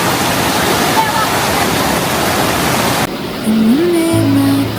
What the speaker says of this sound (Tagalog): Ang ganda ng Tanawan Falls na yan.